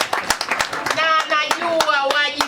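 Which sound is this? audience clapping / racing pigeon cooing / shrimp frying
audience clapping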